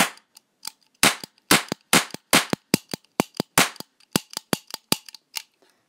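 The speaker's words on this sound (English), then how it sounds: "So that's a cap gun." Toy cap gun firing a rapid run of sharp, loud cracks, roughly two dozen shots in irregular bursts over several seconds, each pop short and close with nothing else in between.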